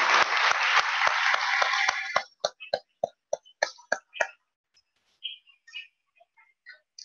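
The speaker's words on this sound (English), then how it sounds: "Please join me now in a round of applause." Audience applause at an annual meeting of a community organisation: dense clapping fills the room for about two seconds, then thins into a scattering of separate, fading claps and a few lingering hand claps before silence.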